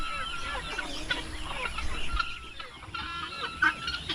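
Several turkeys clucking and gobbling close by, a busy overlapping chatter of short calls with scuffling in the background.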